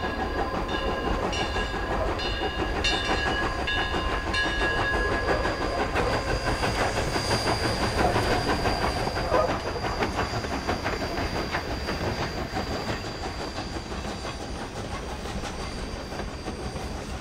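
Train rolling through Utah's rugged country, a steady clickety-clack of wheels on rails with hissing and a brief horn-like tone early on, fairly loud and continuous with no talking.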